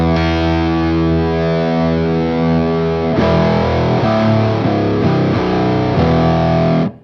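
An electric guitar played through an Octavia fuzz pedal (Jackson Audio Fuzz): a thick, buzzing distorted chord rings out, then a series of further fuzzy chords are strummed in rhythm before stopping abruptly, loud and up close.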